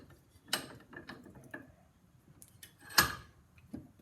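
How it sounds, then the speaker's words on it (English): Metal vise fitted with brass jaw inserts clamping a clockwork governor part, a few sharp mechanical clicks and clanks spread over a few seconds with quiet gaps, close by and with no voices. "I'm going to use the vise with my brass inserts, or you could use wood. And you're going to lock that down."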